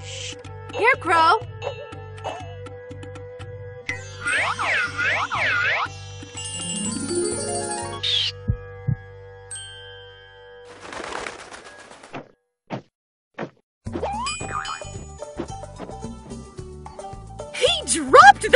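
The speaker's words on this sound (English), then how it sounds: "He dropped the key." A key drops with a cartoon boing in the Putt-Putt video game, one springy bouncing tone amid playful game effects, bird-like coos and music, with talk nearby.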